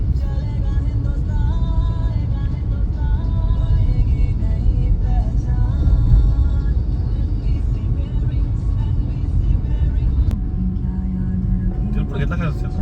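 Road traffic rumbles steadily at Wakad Chowk, a busy junction in Pune, with loud, continuous engine noise and passing vehicles close by, under and around a person talking.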